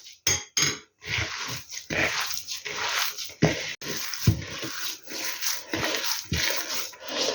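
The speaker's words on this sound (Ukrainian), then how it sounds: "Візьму ножку і отак гарнесенько рукою вимішаю" Soft, sticky squelching and rubbing as cottage cheese dough for syrniki is worked by hand, in an irregular rhythm with brief pauses, close up.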